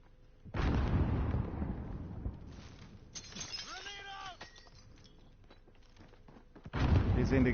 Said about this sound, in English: Now chuck a grenade.